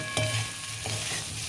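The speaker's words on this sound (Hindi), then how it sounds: "इन आलूओं को आप खूब अच्छी तरह से भून लीजिए।" Potatoes for samosa filling fry in oil with a steady, close sizzle and a few soft stirring scrapes, heard without any voices.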